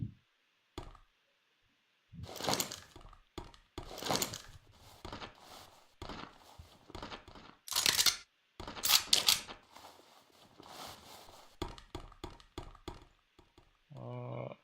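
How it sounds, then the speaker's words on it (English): Gunshots and bullet ricochets off a table in the Avenge shooter game, a sequence of sharp clicky impacts and bursts spaced irregularly over quiet gaps, fairly faint, with a brief tonal ding near the end. "Let us see the bullet ricochet effect now."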